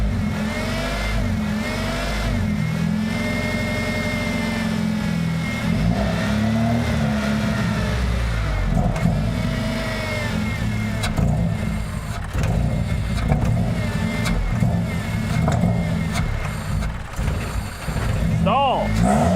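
A Honda car engine revving and faltering as it loses throttle response, a steady mid-pitched drone with surging pitch changes, close and loud, with someone talking over it.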